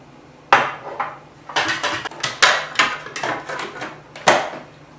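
Water and milk whisked together in a bowl, a run of sharp clattering knocks and scrapes of the whisk against the bowl in uneven bursts, close and fairly loud with no talk.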